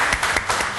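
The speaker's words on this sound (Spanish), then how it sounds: "un aplauso para el alcalde de Recoleta" A television studio audience claps for a mayor being welcomed onto a talk show, a brief loud patter of many hands close to the microphone.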